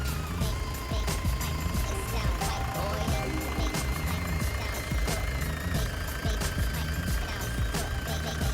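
A 1998 Isuzu Panther New Hi-Grade diesel engine idles close by with a loud, steady clattering knock and rhythmic diesel ticking that runs unbroken throughout, with no talk over it.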